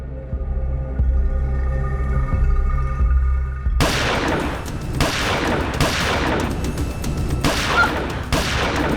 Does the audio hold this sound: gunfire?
yes